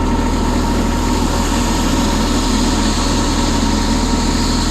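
A tractor engine runs steadily while pulling an expanded-steel drag over gravel, a constant close, loud rumble with a broad, noisy texture and no pauses.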